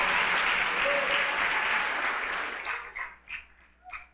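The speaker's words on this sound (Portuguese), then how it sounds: "pode aplaudir a Jesus aí bem forte mesmo." Church congregation applauding loudly, a dense burst of clapping that fades out into a few scattered final claps.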